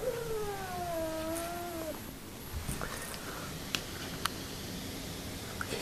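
A cat's drawn-out, wavering threat calls, rising and falling moans during a territorial standoff between a kitten and a large orange tabby, moderately faint and distant, followed by a few small clicks and taps.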